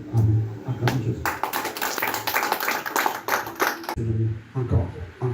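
A church congregation at a deliverance service claps in acclaim of Jesus: a few seconds of dense, rapid crowd applause with voices mixed in, framed by quieter moments before and after.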